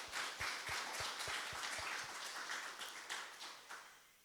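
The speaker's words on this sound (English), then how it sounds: "let's give them a round of applause too." Applause from a church congregation during a Sunday service, a steady wash of many hands clapping with a few sharper, closer claps standing out, gradually thinning toward the end.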